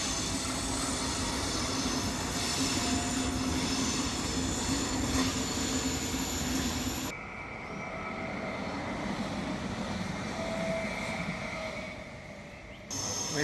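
Train rolling past through a city neighbourhood, a steady loud rumble with faint wheel squeal that drops off abruptly halfway and continues as a quieter, more distant roar.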